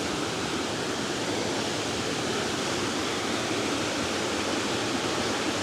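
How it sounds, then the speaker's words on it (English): Water rushes steadily through an abandoned 1849 stone mill building in Burrillville, Rhode Island, a loud, continuous broadband roar that fills the space without a break. "the water comes through the building"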